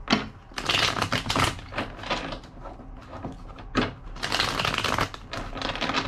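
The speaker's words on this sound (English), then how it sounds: "Two more shuffles." A deck of tarot cards is shuffled by hand in repeated bursts, crisp riffling and rapid card slaps rising and falling, close to the microphone with quiet gaps between passes.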